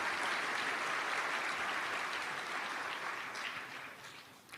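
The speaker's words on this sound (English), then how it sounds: "So huge round of applause for Secretary General Antonio Guterres." Audience applause in a large United Nations assembly hall, steady sustained clapping from a big crowd for the Secretary-General, fading slightly toward the end with no talk over it.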